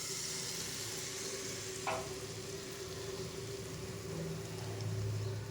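Mixture poured into a lightly oiled pan gives a steady, soft sizzle with a brief splash-like burst near the start, continuing evenly at a modest level with no voices.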